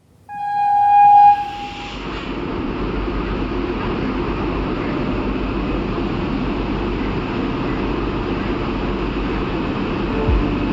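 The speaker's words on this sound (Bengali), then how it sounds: "প্রায় 25 মিনিট লেটে এই সবে ট্রেন ছাড়লো আমাদের ট্রেন" Falaknuma Express pulling out of the station with a loud horn blast at the start, then a steady, close rumble of the moving train carrying on throughout.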